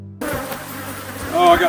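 An angry honey bee colony swarms around its hive, a close, sustained buzzing drone that starts abruptly and grows louder near the end as bees fly past.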